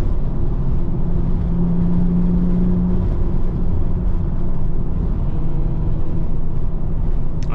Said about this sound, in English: Hope y'all like the sound of the exhaust.